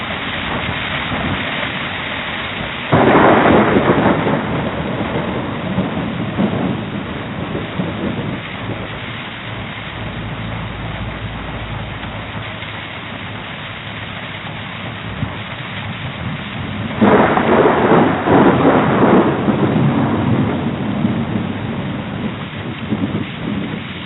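Heavy rain and gusting wind from the Voyager Golden Record's Earth sounds, broken by two loud rolling thunderclaps that rumble up and fade, with no voices.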